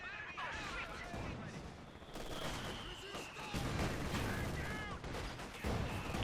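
Light machine gun bursts crackle through a busy Company of Heroes 2 battle, mixed with other gunfire and explosions, with a commentator talking over the steady din.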